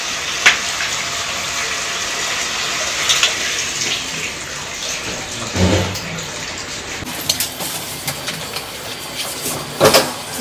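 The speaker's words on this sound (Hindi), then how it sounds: "चलो नल भी आ गए, पानी गिरा रहा है, बंद करनी पड़ेगी।" Water gushes steadily from a household tap in a home during morning chores, a continuous loud splashing stream with a few sharper knocks and clatters, no talking.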